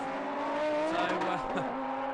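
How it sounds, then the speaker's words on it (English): A GT race car locks a front brake at Sandown on the approach to Dandenong Road, its engine note dropping sharply with a brief tyre squeal, heard at a distance under a race commentator's voice. "Just another little inside lock up into Dandenong Road."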